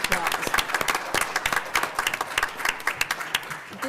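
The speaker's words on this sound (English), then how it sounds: "let's give them a round of applause" A conference audience claps for report authors, many hands producing loud, dense applause with distinct sharp claps standing out, steady for several seconds while faint voices murmur underneath.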